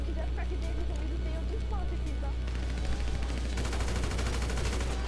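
Rapid gunshots in Grand Theft Auto V Online, a sustained rattle of automatic fire that grows denser and louder toward the end, heard under a player's continuous chatter and a low engine-like drone.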